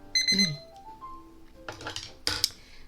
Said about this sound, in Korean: 알람을 끄고 벌떡 일어나야 되겠죠 이제